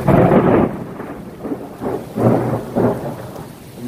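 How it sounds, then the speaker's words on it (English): Thunder from a close lightning strike rolls loudly over steady rain, a deep rumble that swells and pulses for several seconds in an outdoor storm, with no speech. "There's another lightning strike."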